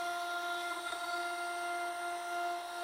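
A CNC router mills a wooden sanding block with a 1/4 inch bit, giving a steady, faint whine with thin sustained tones and no pauses throughout.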